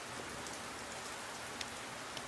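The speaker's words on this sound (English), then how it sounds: "The rain does appear to be slowing down" Steady rain in Multicraft, a broadband hiss of drops pattering on surfaces throughout, even and continuous with a few sharper drip ticks, no voices.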